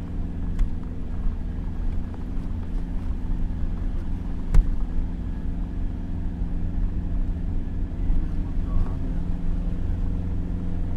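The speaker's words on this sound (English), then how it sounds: "Cue fast, windy truck ride." A truck speeds along winding roads toward Guatemala City, with a steady, close engine rumble and rushing wind holding through the whole ride and no clear talk.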